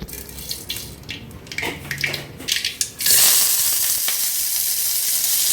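Onion, green chili and curry leaves hit hot oil in a pan, a few clatters and stirring giving way to a loud, steady broadband sizzle that fills the second half.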